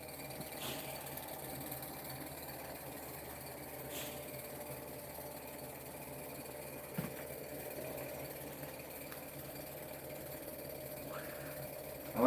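A rotary tattoo machine, a custom 'Deadpool' rotor build, runs with a faint, steady motor hum and a few soft clicks, quiet and unchanging throughout.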